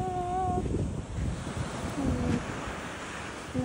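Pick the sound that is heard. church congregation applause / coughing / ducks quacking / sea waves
sea waves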